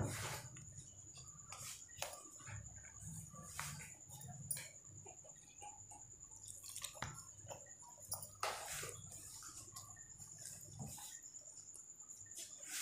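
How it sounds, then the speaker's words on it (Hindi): Pizza dough of flour, sugar, salt and yeast is kneaded by hand while water goes in a little at a time. Soft, quiet wet squishes and pats repeat irregularly at close range, with no talking. "अब हम इसको गूंदना शुरू करते हैं थोड़ा थोड़ा पानी डाल के"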